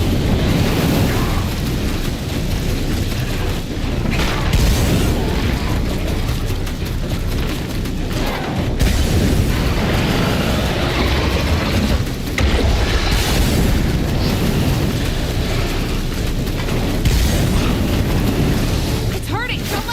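A thrown firebomb erupts in State of Decay 2, a loud, sustained roar of flame and booming blasts that fills the whole stretch with dense, churning noise.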